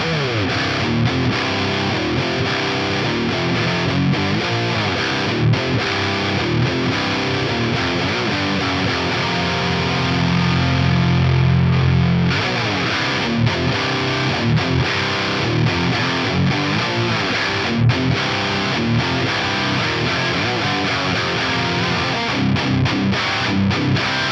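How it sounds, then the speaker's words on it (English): Heavily distorted electric guitar plays a continuous riff through a Fractal 5150 high-gain amp model with boost on, chugging and sustained, loud and unbroken. "Pretty cool with the CC boost on."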